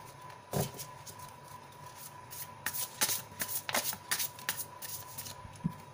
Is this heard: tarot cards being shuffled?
yes